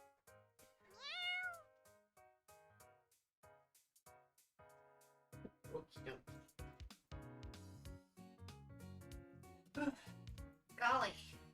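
A person's voice mimics a cat's meow with a short, rising and falling mewing cry near the start, followed by busy, loud music-like sound.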